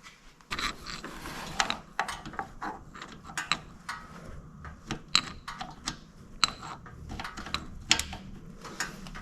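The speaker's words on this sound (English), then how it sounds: "Alright, we got that loosened off." A ratchet loosens the oil drain bolt on a 2007 Honda Shadow VLX 600 motorcycle, giving a series of irregular, sharp metallic clicks and ticks up close.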